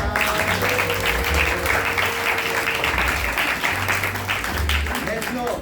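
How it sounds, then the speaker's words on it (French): A church congregation at a Sunday service claps and cheers for the Lord, a loud, steady wall of applause filling the room for several seconds, with a voice carrying over the clapping. "Est-ce qu'on peut acclamer pour le Seigneur?"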